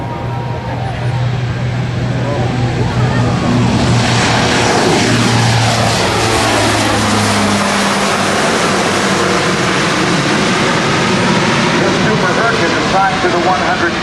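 A National Guard Lockheed C-130J Super Hercules turboprop transport rolls for takeoff at an airshow, its propeller engines building to a loud sustained roar with a sweeping pitch shift, while a commentator talks over a public address.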